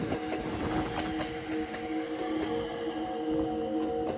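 Train running on the Ōu Main Line (Yamagata Line) in Japan, a steady rumbling roll with rhythmic rail clicks, close and continuous throughout.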